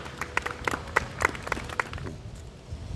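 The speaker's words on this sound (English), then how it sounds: "let's give him a round of applause" At a neighborhood meet and greet, scattered hands clap in uneven bursts that fade out after a couple of seconds, leaving quiet low background noise.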